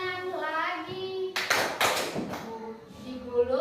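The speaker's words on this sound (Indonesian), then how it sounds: "tepuk tangan lagi." A child sings a short melodic line in Indonesian in a primary school class, then a quick burst of several hand claps, followed by more singing.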